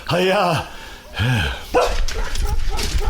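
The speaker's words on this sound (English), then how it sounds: "The dogs are after us again!" Cartoon dogs barking in a chase scene, a few loud close barks and yips in quick succession followed by a burst of excited speech.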